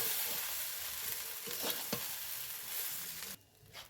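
Cooked rice and vegetables for chicken fried rice being stirred in a pan, giving a continuous sizzle with scraping strokes of the spatula, close up, before it cuts to quiet near the end.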